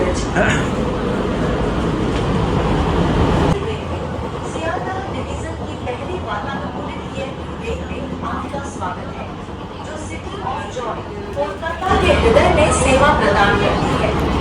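Riding inside a Sealdah–Ranaghat AC local train, a constant loud rumbling rattle of the carriage with steady cabin noise and background chatter, shifting in level partway through and rising again near the end.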